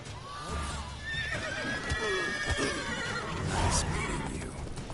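In The Witcher 3, the horse Roach neighs and whinnies several times amid hoof clip-clops and game ambience, with a voice speaking briefly.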